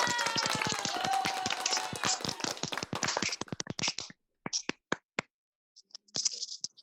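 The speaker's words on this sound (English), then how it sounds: "Wow, that was a long applause." Applause breaks out after an award announcement at a hackathon finale, dense clapping from many hands that thins over several seconds into scattered individual claps and a few last bursts.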